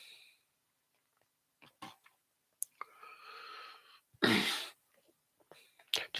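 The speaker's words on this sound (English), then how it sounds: "Just clear my throat, won't be a sec." A person clears their throat once in a single short, harsh burst in an otherwise quiet indoor room. A few faint clicks and small mouth noises come just before it.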